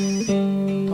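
A telephone rings during a Thai AM radio call-in programme, producing a loud, steady electronic tone with a brief break early on, then continuing unbroken and close with no talk.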